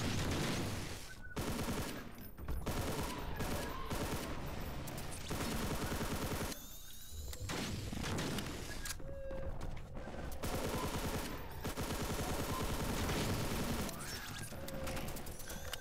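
Half-Life-style video game gunfire rattles in dense, rapid bursts with brief gaps between volleys, loud and close throughout, with no talking over it.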